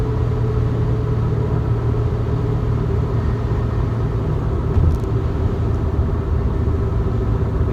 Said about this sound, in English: I'm in third gear, floored, trying to get up to 80, and it's just not accelerating anymore past.